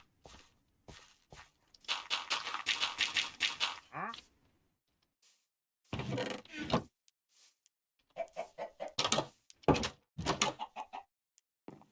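Chickens in the Minecraft video game cluck in short repeated bursts across the scene, mixed with game sounds such as doors and footsteps, with quiet gaps in between; no talking.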